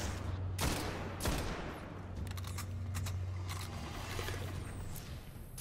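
Pistol fire in the shooter video game Destiny, several sharp cracking shots in irregular bursts over a constant loud game background, no talking.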